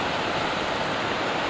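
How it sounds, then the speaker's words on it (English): River water rushes in a steady, broadband hiss as rain falls, a dense, even wash of sound with no distinct individual drops and no voices. "Hopefully you can hear the river, the water and the raindrops coming down,"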